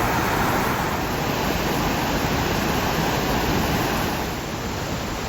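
A small waterfall pours into a river chute in Queensland, Australia, during a heavy downpour, giving a loud, steady broadband rush of water with no voices.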